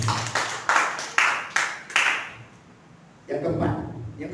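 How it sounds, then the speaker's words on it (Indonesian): A church congregation at a Sunday service claps in a few strong, evenly spaced rhythmic beats that echo in the hall, then stops and gives way to a burst of voices. "Berikan tepuk tangan buat Tuhan."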